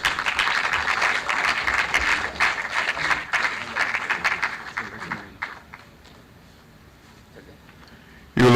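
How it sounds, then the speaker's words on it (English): Applause from an audience at a formal presentation of a transparency and integrity index, dense and steady for about five seconds, then fading out to near quiet before a sudden loud burst at the end. "So if you clap"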